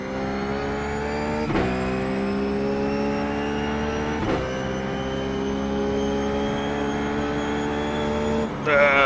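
A Ruf GT3 race car engine roars at full throttle in the iRacing sim at Mosport, a loud, steady high-revving drone broken by two quick gear shifts.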